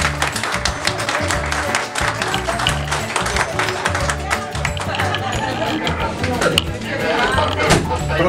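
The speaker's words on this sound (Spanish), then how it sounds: "Un aplauso aquí a las" A crowd claps and cheers in a lively burst of applause, with voices chattering throughout.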